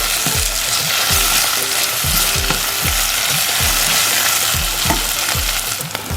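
Patiala chicken masala frying and being stirred in a pan: a loud, continuous sizzle with regular thumping strokes of the spoon about once a second, close up and without voices.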